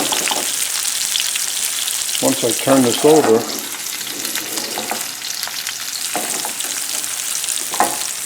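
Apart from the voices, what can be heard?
salmon sizzling in a hot pan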